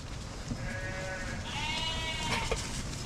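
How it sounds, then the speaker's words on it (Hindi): A large flock of sheep and goats on the Kasol to Kheerganga trek bleats, with several overlapping wavering calls rising over steady outdoor rumble, moderately distant. "ये देखिए गाइस कितने सारे भेड़ बकरियां"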